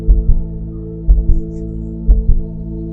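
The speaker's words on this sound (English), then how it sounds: "Got heartbeats." A heartbeat sound effect in the video game Home Is Where One Starts: loud, low, steady double thumps about once per second over a constant deep drone, with no talking.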